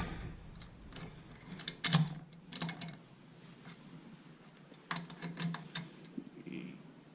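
Wood lathe chuck jaws being tightened on a bowl make faint, quiet, irregular metallic clicks and ticks, with a few clusters of sharper clinks.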